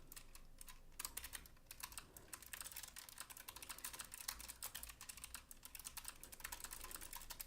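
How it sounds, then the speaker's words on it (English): Typing on a computer keyboard up close, dense bursts of rapid key clicks with brief pauses, quiet and unaccompanied by speech. "You can't see where I'm typing."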